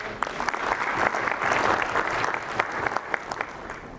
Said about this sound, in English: I think it really deserves for a round of applause.